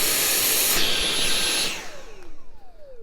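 Dyson V7-11 cordless vacuum with an extension hose on max mode: a loud, close high-pitched whine and rushing airflow that then winds down with a falling tone as the motor spins to a stop.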